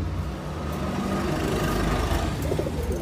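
Domestic pigeons, a brooding pair of Afsan Rizel high-flyers on eggs, coo softly amid steady background noise with a faint engine hum, no voices.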